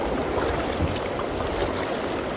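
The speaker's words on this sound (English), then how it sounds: "Pretty big waterfall up there." A river waterfall near a canoe portage gives a steady broadband rush of falling water, continuous and moderately loud, with no voices.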